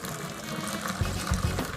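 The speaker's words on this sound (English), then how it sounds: "I'm going to pour my hot water into the bath" Hot water poured into a bath prepared for yoni steaming, a steady close gurgling pour with a few heavier low splashes toward the end.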